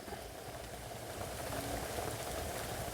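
Rain falls outdoors on a Thai garden at night in a steady, soft, even patter with a faint low hum beneath it and no voices.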